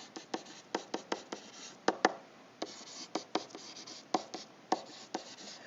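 Pen or pencil writing algebra notes on paper, with a quick irregular run of short scratchy strokes and taps, close and faint, heard alone without talk.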